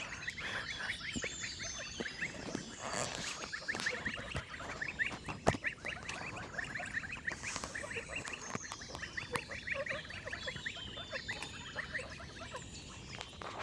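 Goslings and geese in a park enclosure chatter in a constant busy mix of soft peeps and calls, fairly faint, with some rustling and pattering.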